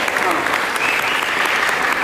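A youth gathering's crowd claps loudly and continuously for the musicians, a thick wash of applause with voices calling out underneath.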